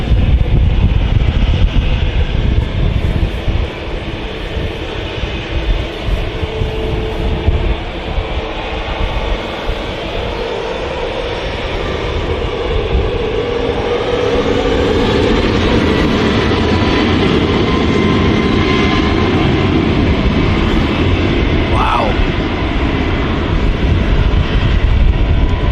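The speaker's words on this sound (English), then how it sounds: "I think we'll stick with this Qatar Dreamliner" A Qatar Airways Boeing 787 Dreamliner departs Manchester Airport: a loud, broad jet roar holds steady and close for the whole stretch, swelling slightly in the second half, with no voices.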